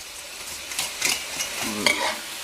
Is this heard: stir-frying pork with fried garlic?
yes